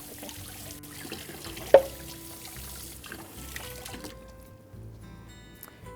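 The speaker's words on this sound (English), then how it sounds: "Let me rinse my spoon off real quick." A spoon rinsed under running kitchen tap water while making a creamy shell pasta salad, giving a soft, close trickle and splash with one sharp clink partway through before the flow fades out.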